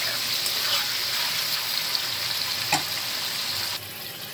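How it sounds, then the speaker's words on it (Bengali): Paneer cubes fry in heated oil, giving a continuous, fairly loud hiss and crackle that runs without a break and ends with one faint knock near the close. "প্রথম তেল গরম করে আমি পনিরগুলো ভেজে নিচ্ছি।"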